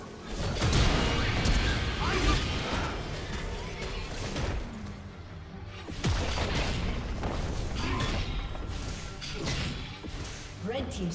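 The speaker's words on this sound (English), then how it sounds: "Team's turret has been destroyed." League of Legends turret collapsing in a top-lane match, heavy booms and crashing rubble with whooshes and thuds, loud and dense, layered over constant combat effects and spell sounds.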